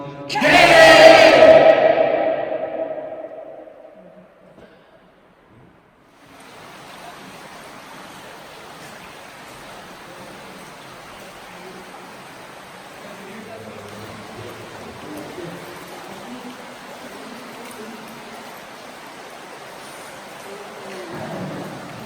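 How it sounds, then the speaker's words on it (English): Group shouting inside Tuckaleechee Caverns: a loud burst of many voices at the start, then a long reverberant decay and quiet cave ambience with faint murmuring afterward. "just count until you stop hearing the echo"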